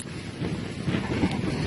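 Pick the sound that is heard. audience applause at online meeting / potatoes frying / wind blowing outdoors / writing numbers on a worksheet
wind blowing outdoors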